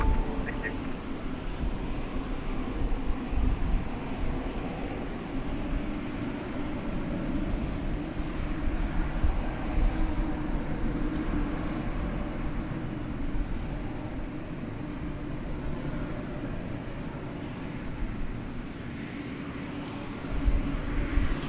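A Frontier Airlines airliner in green livery taxis at DFW Airport at night, a steady distant engine rumble and hum running throughout with a faint high whine above it.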